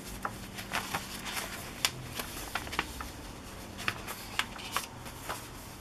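Sheets of wrapping paper bound into a junk journal are handled and turned, making soft, irregular papery flicks and rustles close up at a quiet level.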